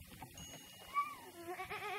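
A baby sheep bleats, out in the countryside in Arcadia. A few short, wavering cries come in fairly close but soft over quiet outdoor background noise.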